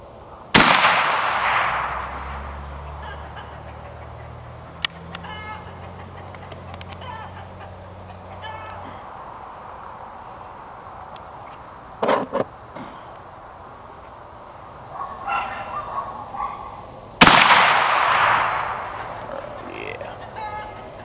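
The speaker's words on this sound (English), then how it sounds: "Always shoot your guns next to the road" Muzzleloader fired beside a road: two loud, sharp gunshots far apart, each trailing a rolling echo, with quiet outdoor ambience, faint rustling and handling noise between them.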